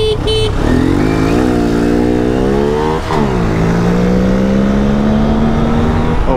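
An Aprilia SR 150 scooter runs at full throttle in a drag race, its engine note climbing loud and close in a long steady rise, briefly dipping midway before pulling up again.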